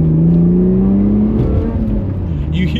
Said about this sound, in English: the faint whine of the supercharger.